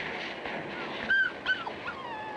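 Puppies in a pet shop window whimper and yip on an old 16mm film soundtrack, with two brief high cries over a steady hiss.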